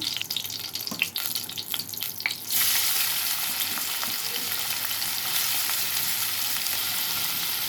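Onions sizzle and fry steadily in hot oil in a pan for a Telugu taro root and egg tamarind curry. A few stirring clatters come first, then a loud continuous sizzle.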